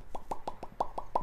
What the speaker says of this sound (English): Lip smacking is not, in fact, bad monkey table manners.